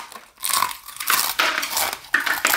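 Someone bites and chews Blue Takis rolled spicy tortilla chips up close, a run of loud, sharp crunches in short bursts with brief pauses, no talking.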